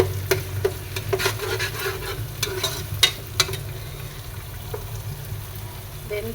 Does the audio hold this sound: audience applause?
no